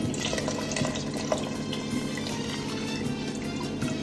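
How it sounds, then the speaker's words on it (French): Homemade broth for Tunisian mloukhiya is poured through a filter, giving a steady, close splashing and dripping of liquid that runs continuously at low volume with no talk. "je vais récupérer donc mon petit bouillon de tout à l'heure que je vais filtrer"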